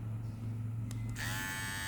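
A Kemei KM-658 electric hair clipper switches on after a couple of faint clicks and then runs with a steady, fairly quiet, high-pitched buzz for the rest of the clip.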